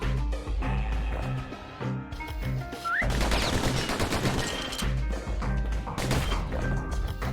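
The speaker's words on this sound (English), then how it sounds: "The slingers like to edge each other out using customized pistols." Pistol gunfire from the action game Bastion: sharp shots and bursts cut through a layered music score, loud and busy throughout, with a heavier crash of impacts about halfway.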